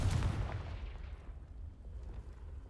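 A single deep blast from the Confringo explosive spell in Hogwarts Legacy hits loud at once, then fades into a long, low, rumbling decay.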